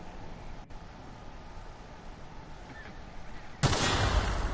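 A single accidental weapon shot in The Outer Worlds, a sudden loud blast near the end that cuts through quiet ambient sound and leaves a sustained ringing roar behind it.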